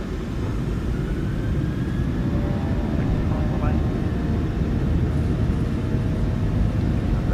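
Engines of a PMDG 737-800 in MSFS2020 spooling to takeoff thrust, a loud steady roar and rumble that holds evenly throughout, with faint tonal whines rising above it.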